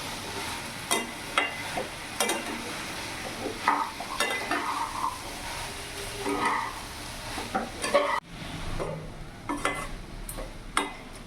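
Boiled kabuli chickpeas are stirred into cooked spice masala in a pan, giving repeated close scraping and clacking strokes over a soft steady sizzle, with a sharper clatter partway through.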